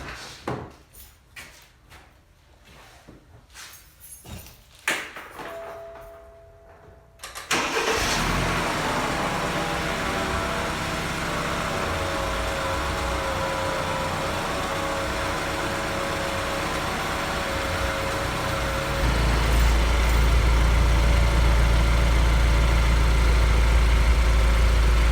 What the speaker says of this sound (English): So I'm going to start it, run the car